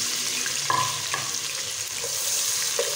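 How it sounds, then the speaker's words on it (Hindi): Four finely chopped medium onions frying in half a cup of oil, giving a bright, even sizzle with a few soft stirring clicks, close and steady throughout. "ऑयल लिया मैंने हाफ कप, 4 मीडियम अनियन लिया मैंने, इनको बारीक बारीक काट लिया है, ये शामिल करूँगी"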